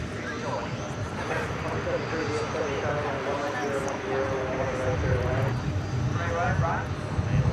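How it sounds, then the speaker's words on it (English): MD-11 jet arriving at DFW Airport at night from Louisville: a sustained engine roar with wavering tonal whines, swelling somewhat toward the end, while someone talks over it. "MD-11 coming in from Louisville"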